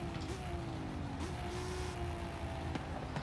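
A BMW drift car in Forza Horizon 5, its engine note droning steadily with small pitch shifts as it revs, sitting fairly low behind faint background noise.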